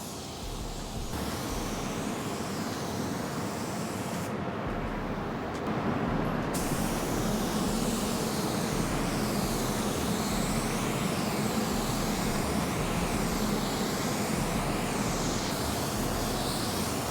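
An auto paint spray gun lays clear coat over pearl and base coat on a car in extreme heat, producing a steady, loud, continuous airy hiss that runs unbroken for the whole stretch with no talking.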